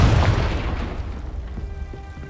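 Confringo spell in the Hogwarts Legacy video game, a deep booming blast that hits at the start and fades into a crackling, rumbling tail over a couple of seconds.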